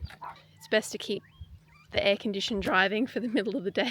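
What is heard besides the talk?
small dog barking inside a van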